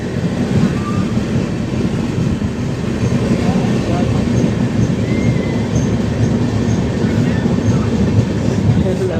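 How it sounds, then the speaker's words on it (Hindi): An Indian Railways train slowing near Obaidullaganj on a run toward Mumbai gives off a loud, continuous rumble of wheels on track, a steady heavy roar with faint squeals, heard from inside the moving train. "Indian railway."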